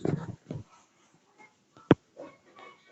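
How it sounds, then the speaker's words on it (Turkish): A neighbour's wolf-type dog in a back garden gives a few short yips and barks, including one sharp loud bark, with quiet gaps between them. "Arka bahçede bu köpek başka yerin köpeği."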